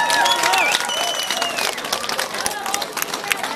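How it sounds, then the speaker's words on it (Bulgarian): A crowd at an outdoor festival after a folk dance troupe's performance claps and cheers, loose applause mixed with shouts and whistles beneath lively crowd chatter. "Аплодисменти още веднъж!"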